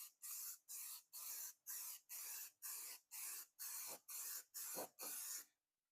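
White paint hissing from a spray paint can in eleven steady bursts, each about half a second long, evenly spaced and close, with no talking.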